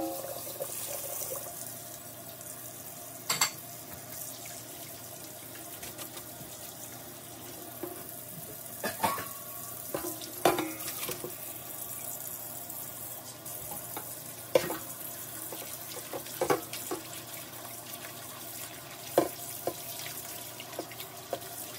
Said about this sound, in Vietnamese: giờ mình sẽ mang ra mình xả nước lạnh lại ha